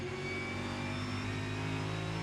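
NASCAR Cup Series race cars at Richmond Raceway produce a sustained, loud engine drone with steady tonal whine, continuous and close, with no break throughout.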